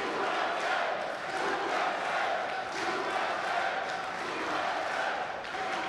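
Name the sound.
crowd chanting USA at table tennis match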